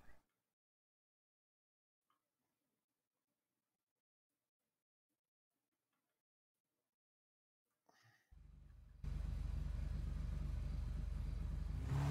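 Near silence for several seconds, then a video game motorcycle engine kicks in and holds a steady, loud drone to the end.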